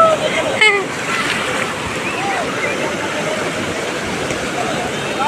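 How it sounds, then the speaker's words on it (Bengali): Sea waves roll and wash onto Puri beach on a full-moon-eve day of bigger surf, a steady broadband roar that fills the whole span, with voices and brief calls in the background. "দারুণ লাগছে আজ, ঢেউগুলো খুব ভালো আছে। আগের দিনের থেকে ঢেউ বেশি আছে।"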